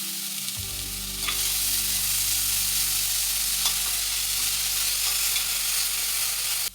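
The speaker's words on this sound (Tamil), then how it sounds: "அதே கடாயில கொஞ்சம் கருவேப்பிலை, பொடியா கட் பண்ண வெங்காயம் சேர்த்து வதக்குங்க." Curry leaves and finely chopped onion frying in a kadai, a loud close sizzle that jumps up as they hit the oil and then holds a dense, even crackle with light stirring, no voices.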